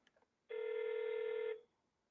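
A single long tone rings out, loud and steady for about a second, then stops: a telephone calling a hotel room at a Crowne Plaza.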